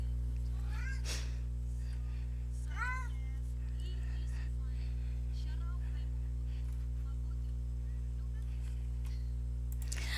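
A cat meows nearby several times in rising, plaintive calls, over a constant loud electrical mains hum, with a person talking intermittently.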